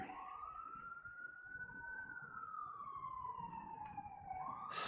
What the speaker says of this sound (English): ambulance is going by